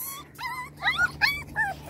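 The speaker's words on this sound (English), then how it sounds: "Oh, the big dogs want to be involved in this." Several high, wavering whimpers and whines from six-week-old puppies and bigger dogs on a deck, in short bursts, close by, with a faint steady hum underneath.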